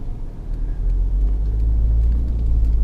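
A 2019 Subaru Ascent climbing a steep hill in X mode, a steady low engine and road rumble that swells slightly as it pulls, heard from inside the cabin, no talking.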